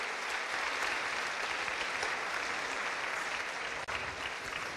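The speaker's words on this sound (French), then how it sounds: "On peut vous applaudir, vraiment" Steady, dense audience applause at a neuroscience conference, even in loudness throughout with a single brief dip near the end.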